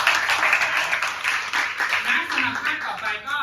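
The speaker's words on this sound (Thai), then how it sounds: "ปรบมือให้กับหัวหน้าห้องก่อน" Steady, dense applause from a class of students in a Thai school classroom, welcoming their newly chosen class head, continuous and fairly loud throughout.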